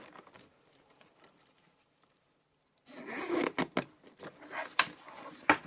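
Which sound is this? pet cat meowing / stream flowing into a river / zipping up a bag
zipping up a bag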